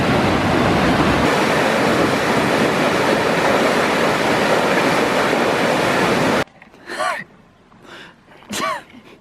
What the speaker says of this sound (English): Wow! Waterfall!